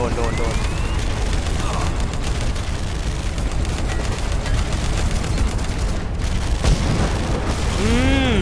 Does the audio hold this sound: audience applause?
no